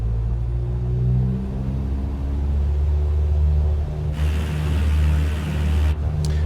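In Microsoft Flight Simulator, an aircraft's engines spool up for takeoff as power is applied smoothly, a loud steady rumbling drone with a rising tone, heard alone without talk.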